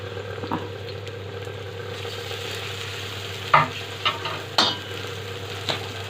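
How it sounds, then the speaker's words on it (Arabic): Chopped onions frying in oil in a pan, a soft continuous sizzle with a few louder scraping stirs and spatters near the end, close by and without speech. "هنيجي ننزل على الزيت كده بالبصل بتاعنا، قطع بصلايه كده حلوه."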